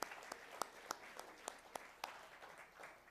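Scattered applause from a church congregation during a Sunday service, faint and distant, with a handful of individual sharp claps spaced roughly evenly over a few seconds.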